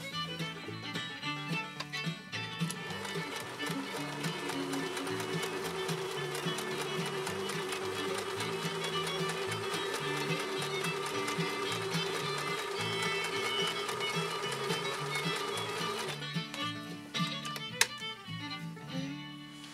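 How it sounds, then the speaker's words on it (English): A 1974 Kenmore 1050 sewing machine runs a 3-point zigzag stitch, its motor humming in a long, steady, close buzz with a rhythmic needle clatter before stopping near the end with a few clicks. "This is kind of like a 3-point zigzag type stitch thing going on here."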